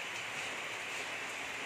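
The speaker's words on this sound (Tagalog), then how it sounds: "It's raining." Heavy rain falls steadily on a Sunday morning in Sorsogon, a soft, even hiss with no breaks and no voices.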